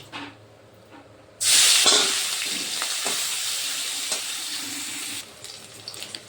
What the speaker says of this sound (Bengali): সামান্য নুন আর হলুদ দিয়ে মেখে চিংড়িগুলোকে আমি এখন প্রথমে ভেজে নিচ্ছি